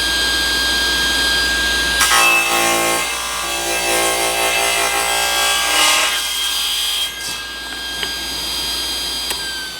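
A hand saw cuts through wood for an end-grain butcher-block cutting board, rasping steadily and loudly for several seconds, close by, then the strokes thin out and stop.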